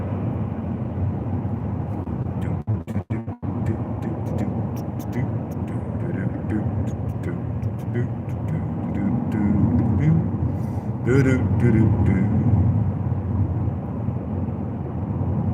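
A Ram pickup truck drives along with a steady, close engine and road rumble from inside the cab, a few sharp clicks early on, with the drone swelling slightly later.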